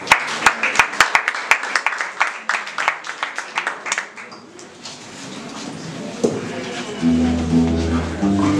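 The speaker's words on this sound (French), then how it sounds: "Sous vos applaudissements, s'il vous plaît." Audience applause at the grand final of a competition, starting with a few loud separate claps that build into a brief round, then fading as a voice speaks over a low musical tone.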